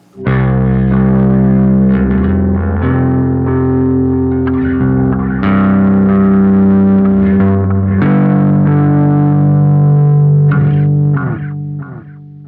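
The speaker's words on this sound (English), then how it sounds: "Let's hear how the Tapescape sounds on bass." Bass guitar through a Bleak District Electric Tapescape tape delay pedal plays sustained low notes and slides, loud and continuous, with echoing repeats and a warbly chorus-like shimmer trailing each phrase.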